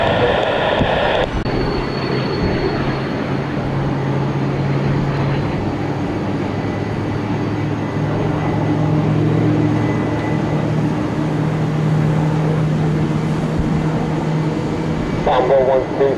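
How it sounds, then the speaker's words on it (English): An airliner rolls for takeoff on the runway at Tampa International, a steady broad roar with a low engine hum that persists throughout, heard under radio chatter from air traffic control. "runway 1 right clear for takeoff. Alright, takeoff."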